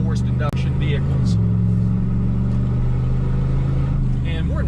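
Car engine held at wide open throttle on a forced-induction vehicle during a tuning pull, a loud steady drone that rises slightly in pitch, close and continuous throughout.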